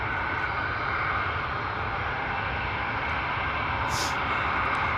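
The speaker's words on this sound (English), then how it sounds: "Beautiful arrival there from the A321." An Airbus A321 jet arrives with a steady, loud, broadband engine roar that holds evenly throughout, with a brief hiss rising near the end.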